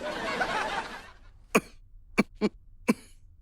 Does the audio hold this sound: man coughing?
yes